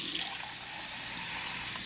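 A tap pours warm water into a cup as a steady, close hiss of running water that begins slightly louder and continues evenly, with no voices.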